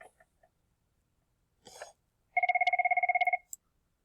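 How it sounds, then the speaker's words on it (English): A telephone rings with a single rapid trilling burst of about a second, clear and close, preceded by a few faint clicks and a soft rustle in an otherwise quiet room. "Had a phone call."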